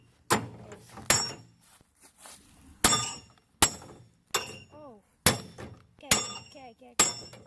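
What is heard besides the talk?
hammering into a microwave while magnet fishing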